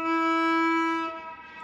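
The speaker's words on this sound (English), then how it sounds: "you lift it up a little bit and get this ghost note" A bowed viola ghost note, played with the finger lifted slightly off the string and the bow lightened, rings as one sustained, airy pitch for about a second before fading, with no voice over it.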